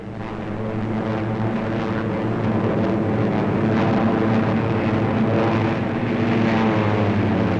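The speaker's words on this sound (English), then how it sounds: "From nearby bases, our fighters go up" Fighter planes, P-39s, take off from bases near Port Moresby in a 1943 wartime newsreel, heard as a continuous, dense engine roar with a low rumbling drone that holds steady throughout.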